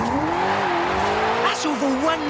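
Car drifting in the racing game Forza Horizon 5, a sustained engine drone rising and falling with a steady tire squeal, loud and close throughout, with talk over it.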